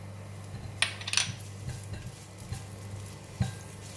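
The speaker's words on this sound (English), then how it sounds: "We're going to fry the garlic until brown and fragrant." Chopped garlic fries in about a tablespoon of hot cooking oil in a pan, giving a steady soft sizzle with occasional sharp clinks and scrapes of a utensil stirring against the metal, close and fairly quiet, no voices.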